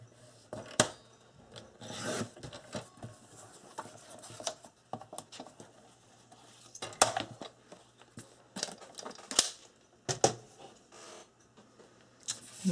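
Paper pieces for a tag album being cut, heard as quiet, close rasping and scraping strokes with irregular sharp clicks and pauses between them.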